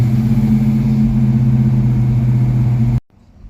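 A car engine idles loudly and steadily close by, a constant low rumble that cuts off abruptly near the end.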